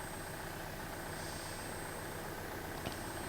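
A tractor engine idles in Farming Simulator 15, a steady low rumble with an even drone that stays constant throughout, with no talking over it.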